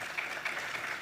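Audience applause for a conference panel, a steady wash of many hands clapping at moderate level throughout, with no voices over it.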